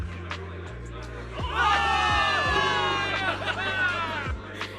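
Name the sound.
crowd cheering in Zenless Zone Zero video game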